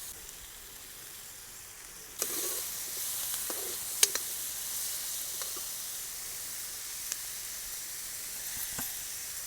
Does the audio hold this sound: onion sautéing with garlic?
yes